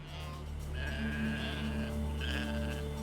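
Sheep in a British anthrax test bleat repeatedly over a steady low hum, several overlapping calls close by and fairly loud with no talk.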